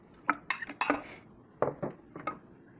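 Veggie burger ingredients (eggplant, mushrooms, onion) being mixed in a bowl: a few quick clinks and scrapes of a utensil against the dish in two short bursts, close and fairly quiet.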